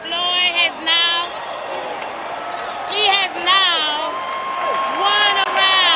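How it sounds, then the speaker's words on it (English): A crowd cheers and whoops at a boxing match, with loud overlapping shouts rising in several waves under a steady roar of voices. "the crowd goes wild"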